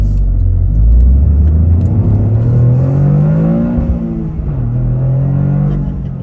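A Toyota GR Corolla engine revs up hard and accelerates through a left turn, rising in pitch, then briefly drops and climbs again, loud and close from inside the car.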